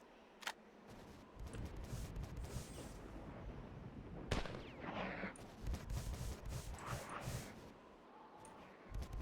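Gunfire from the sci-fi shooter Marathon Infinity: sharp shots and bursts of blasts crackle over a dense, noisy game backdrop, with a few stronger isolated reports standing out.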